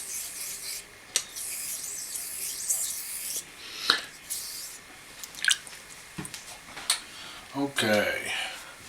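A steel blade rubs back and forth on a Chinese sharpening stone, making a soft gritty rasping in irregular strokes with a few sharper scrapes, close and quiet with no talking.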